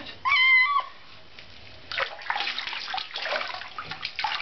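Water splashes and sloshes in a tub while a cat is bathed, with the cat letting out a loud, drawn meow at the start before the irregular splashing continues close by.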